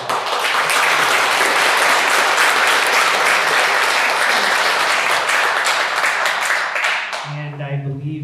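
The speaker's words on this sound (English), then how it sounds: "If you want to applaud for all the candidates now" Loud, sustained applause from the audience for all the candidates at a Burien city candidate forum, filling the room for about seven seconds before fading into a speaking voice at the end.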